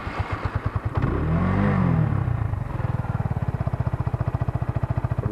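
A Keeway Superlight motorcycle engine idles with a steady, rapid thumping putter, briefly revving up before settling back into an even idle, close by.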